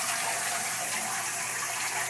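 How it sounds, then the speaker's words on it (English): A continuous hiss of water and sanitizer liquid sprays over totes and lids inside an MLT830 tunnel tote washer, a steady, even gushing wash with no talk. "So as the totes pass through, the sanitizer liquid is released along with the water to sanitize the totes and lids."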